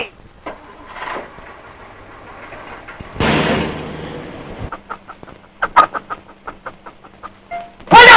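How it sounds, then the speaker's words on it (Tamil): A chicken clucks aboard a vehicle, giving a run of short, sharp clucks and squawks close by, with louder bursts of noise in between. "யாரையா கோழி கொண்டு வந்திருக்கிறது"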